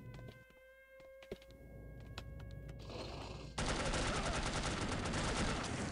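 Phosphor rounds fire in The Operative: No One Lives Forever, scattered sharp shots that build into a sustained, loud burst of rapid automatic gunfire with no talking.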